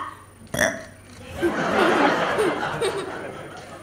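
At a film song launch event, a loud, close burp is followed by a stretch of laughter and chuckling.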